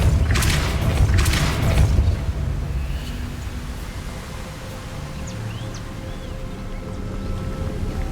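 The Depulso spell is cast in Hogwarts Legacy, with a couple of deep whooshing booms in the first two seconds. A low, windy rumble of game ambience fills the rest.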